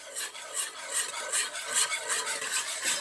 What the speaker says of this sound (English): we are going to mix this thoroughly using your wire whisk